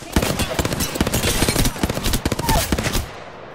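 Rapid automatic gunfire in the battle royale game Apex Legends, loud close bursts of many sharp shots in quick rhythm that stop abruptly near the end.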